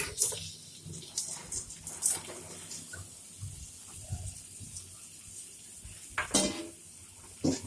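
Boiled vegetables tipped into a pan with turmeric and stirred, producing a faint sizzle with intermittent scraping and a few louder clatters of the spoon against the pan, no voices.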